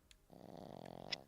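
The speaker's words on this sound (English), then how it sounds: "Is that actually her snoring?" A single drawn-out snore, a low rattling buzz lasting about a second, close and fairly quiet with a faint breathy catch near the end.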